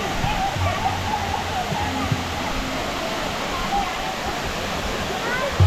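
A waterfall near Warakapola, Sri Lanka, pours with a dense, steady roar that fills the scene continuously, close and loud, with wind gusting around it.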